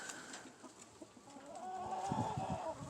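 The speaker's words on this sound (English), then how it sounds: "There's my other chickens." Chickens clucking softly nearby, a few short bursts growing slightly louder toward the end, against quiet outdoor background.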